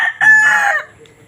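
A single loud fighting rooster crow rings out close by at a market, strong and drawn out, then fades into quiet background.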